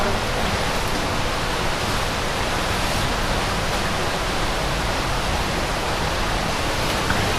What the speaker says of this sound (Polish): dosyć mocno infiltruje woda